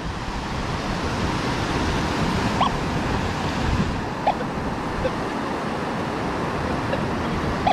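Ocean waves wash over a wet-sand beach in a continuous loud roar of surf, mixed with wind buffeting the microphone and a few faint short clicks.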